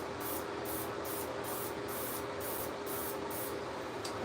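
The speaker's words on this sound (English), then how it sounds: "So I'm actually going to try to spray this upwards" Aerosol spray can painting a chip repair upward, a continuous steady hiss with brief pulsing interruptions, loud and close, no voices.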